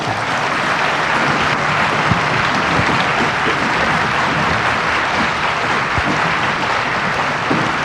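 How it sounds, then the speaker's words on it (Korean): A church congregation at a revival meeting in a Los Angeles church breaks into loud, sustained applause, dense, even clapping filling the room steadily from start to finish with no clear talk. "크게 박수로 한번 환영합시다"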